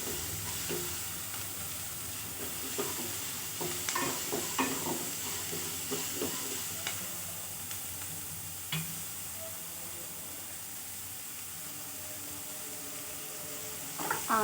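Dried red chillies frying in a pan for a vallarai keerai chutney, a soft continuous sizzle with scattered crackles and occasional stirring scrapes, close but quiet, no voices.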